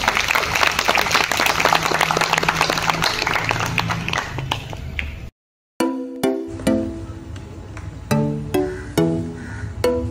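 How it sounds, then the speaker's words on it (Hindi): A crowd at an Independence Day hospital gathering applauds, with dense clapping at first, a brief silent break, then scattered claps mixed with music-like tones and voices. "तालियां।"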